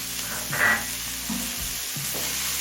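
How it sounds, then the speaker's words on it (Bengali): Cabbage and mixed vegetables being stir-fried in a pan for home-made mixed chow mein, a steady sizzle under scraping stirs, with one louder scrape early on and a couple of softer ones later, with no talking. "বাঁধাকপিটা দিয়ে নেড়ে ছেড়ে মিশিয়ে নিলাম"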